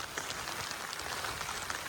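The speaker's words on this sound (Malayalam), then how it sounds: "മഴ പെയ്യുന്നുണ്ട് കേട്ടോ" Steady, soft patter of light rain falling on surfaces on a hillside trail at Kodikuthimala, Perinthalmanna, a continuous even hiss with no voices.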